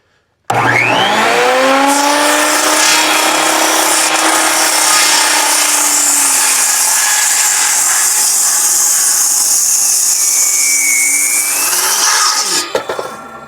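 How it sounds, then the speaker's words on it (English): A skill saw cuts timber frame tenons, spinning up with a sharp whine and then holding a loud, steady, harsh cutting roar for about twelve seconds before winding down at the end. "It's a skill saw, which is good."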